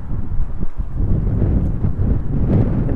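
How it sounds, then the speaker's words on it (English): Wind buffets a fishing boat on a river, roaring steadily and loudly across the microphone as a continuous low rumble with no talking. "the current's going out, the wind's blowing in"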